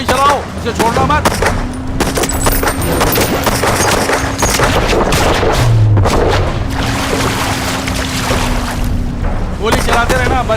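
Rapid bursts of gunfire crack and rattle repeatedly over a steady engine drone, with shouting voices mixed in.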